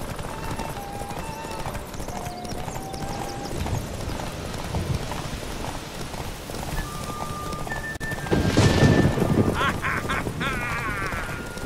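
Horses galloping in a race in The Witcher 3, a steady clip-clop of hooves running through the whole stretch, joined near the end by a louder burst of hoofbeats and commotion, with game music above.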